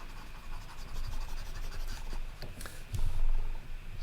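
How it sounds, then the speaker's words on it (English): Erasing on a lecture board gives a run of soft rubbing and scratchy strokes, irregular bursts with a heavier swipe near the end, fairly close and alone. "If I go over here and do some erasing, hope you don't mind if I erase at the top"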